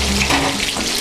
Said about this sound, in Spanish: Removemos todos los ingredientes.